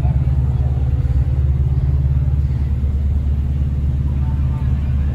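A heavy truck engine rumbles steadily up close at a truck meet, a deep continuous idle with constant loudness throughout.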